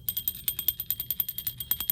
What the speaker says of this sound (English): That's right, it's a bell.